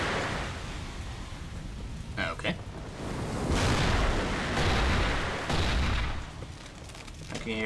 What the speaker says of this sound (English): Gunshots, which aren't my own